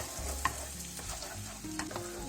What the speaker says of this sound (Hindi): जो हमने अनियंस काटे थे, वो डाल लेते हैं। और इसको हमने फ्राई करना है।